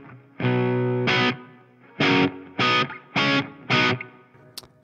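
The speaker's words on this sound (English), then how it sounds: "it's just a spring reverb." Heavily distorted electric guitar through a Marshall MG100HCFX amplifier's spring reverb plays a held chord then five short stabs, each trailing off with a wet, washy reverb tail.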